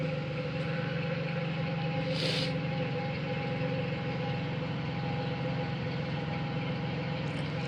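A repaired Pontiac 3800 engine idles steadily with a smooth, even hum that holds its level throughout, heard up close with no misses or surges and one brief hiss partway through.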